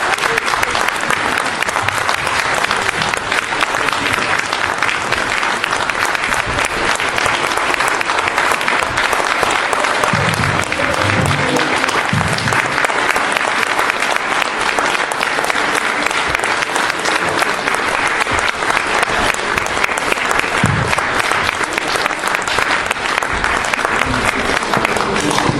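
A large crowd at a Vichy political rally applauds Bernard Monot and Marion Maréchal-Le Pen with loud, dense, unbroken clapping that holds for over twenty seconds, with crowd voices mixed in.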